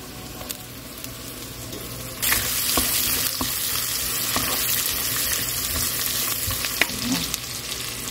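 Onion dropped into hot oil for a Kerala fish curry, a soft sizzle that swells suddenly into a louder steady frying hiss, with occasional stirring clicks and no talk.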